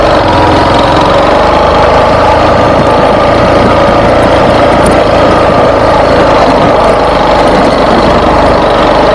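Motorcycle engine running loud and close at the foot of a hill climb on Morro da Melancia, a steady rough drone without pauses.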